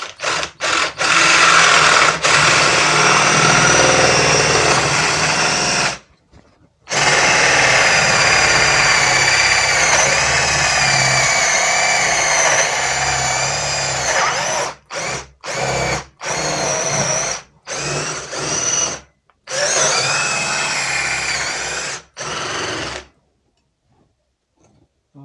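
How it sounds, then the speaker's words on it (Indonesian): A DongCheng electric drill bores a hole for a spoon hinge, whining loudly and continuously with brief stops, then several short on-off bursts near the end, close up with no talking. "Dan ini sudah saya siapkan engsel sendoknya, kurang lebih aja ya saya bur di sini"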